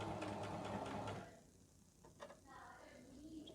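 Sewing machine running a straight stitch, a close, rapid mechanical whirr for just over a second before stopping, followed by quieter handling noises.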